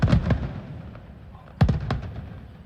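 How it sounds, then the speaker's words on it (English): New Year fireworks bursting over the Burj Khalifa in Dubai: a couple of sharp close booms at the start, then a lull of crackle before another loud burst and a few following pops, echoing in open city air. "the fireworks have started right at the top, going up till the bottom on the sides."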